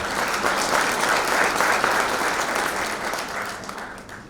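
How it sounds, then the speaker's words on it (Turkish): An audience at a Turkish water safety workshop claps steadily for several seconds, a dense even wash of many hands that fades slightly toward the end, with no voices over it. "lütfen bir alkışlayın"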